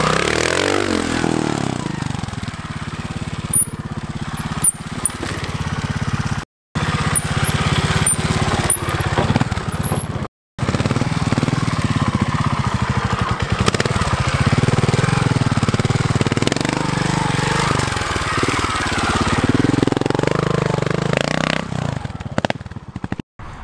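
A trial motorcycle's engine runs close by for most of the stretch, a steady rough drone with clattery mechanical texture and small revs, broken by two brief silent cuts.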